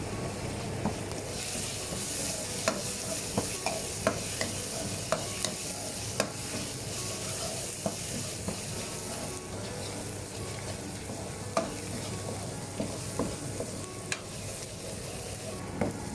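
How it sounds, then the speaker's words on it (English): Chicken wings frying in oil over medium heat, a continuous dense sizzle and crackle with scattered pops and occasional scraping of a utensil, steady throughout. "don't forget to fry with a medium heat"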